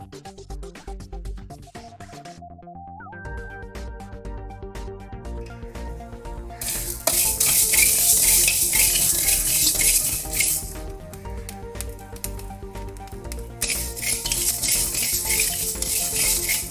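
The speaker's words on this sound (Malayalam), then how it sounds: "നമുക്ക് ഉലുവയും എള്ള് ഇതെല്ലാം ഒന്ന് വറുത്ത് എടുക്കണം" Fenugreek and sesame seeds are dry roasted in a pan, with bursts of rattling, scraping stir noise that come and go over soft tonal music, close and moderately loud.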